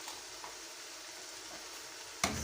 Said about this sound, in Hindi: मसालों को हम तकरीबन 5 से 6 मिनट अच्छी तरह भून लेंगे।